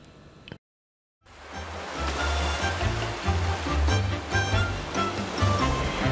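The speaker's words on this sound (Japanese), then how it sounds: "マルタ来て初めての海だ。" Sea waves wash against the coast of Malta on a windy day, a loud, continuous rushing surf that swells and recedes after a brief silent gap at the start.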